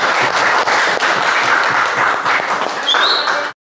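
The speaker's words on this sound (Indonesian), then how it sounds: "kita berikan aplaus untuk buat kelompok 1" A classroom of students applauds group 1, a dense burst of clapping that fills the room steadily for about three seconds before stopping abruptly.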